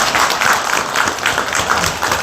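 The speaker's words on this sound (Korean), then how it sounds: "박수 한번 쳐주시죠" Audience applause at a book concert for a political candidate, a dense steady patter of many hands clapping at once, filling the room evenly without pause.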